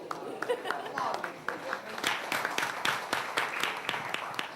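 A crowd claps in a brisk run of sharp, evenly spaced hand claps that grows stronger about halfway through, with talk and chatter under it at a children's hand-washing campaign event.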